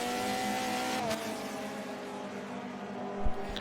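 Race cars from a prototype touring race in a racing video game roar together in a close three-car battle for fourth place, steady loud engine drone with a pitch shift near one second and a brief thump late.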